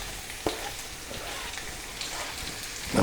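Carrot, celery, onion and bacon browning in oil in a pan give a soft, continuous sizzle and crackle, faint and close, with a few small pops.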